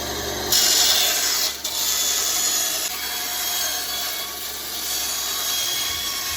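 A band saw with a steel blade cuts through material, giving a loud, continuous rasping, grinding hiss that wavers slightly as the cut progresses, with a brief dip near the start.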